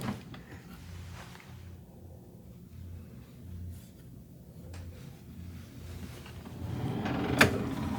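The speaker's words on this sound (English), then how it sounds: "our room safe is located right in this bottom drawer" A bottom drawer in a cruise ship deluxe cabin with two queen beds, holding the room safe, is pulled open with low rubbing and sliding, ending in a louder bump near the end, close by in a quiet room.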